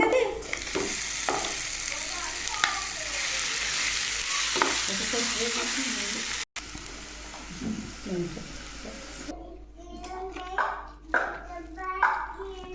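Chana dal, mustard seeds, urad dal, curry leaves and onions frying in hot oil for a chutney tempering, loud close sizzling with stirring, followed by a pause and then spoken voices over quieter crackle.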